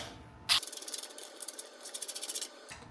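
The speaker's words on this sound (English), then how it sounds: "And we'll take our 7/16-inch socket and push down on the top of the bolt and tighten this up." A 7/16-inch socket wrench tightens a nylon lock nut bolt on a plastic handlebar box, giving quick, quiet runs of ratcheting clicks in close, rapid bursts.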